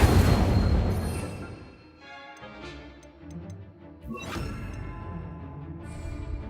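Incendio fire spell cast in Hogwarts Legacy, a burst of crackling flame and whooshing magic followed by ticking chimes and a second flaring whoosh, loud and close with no talk.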